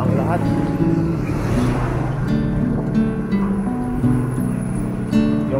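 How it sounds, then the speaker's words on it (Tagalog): Honda XRM 125 underbone motorcycle, an older but working bike, ridden on a road trip, with a steady close engine drone and rumbling wind noise running throughout. "Yung gamit nating motor guys, XRM 125."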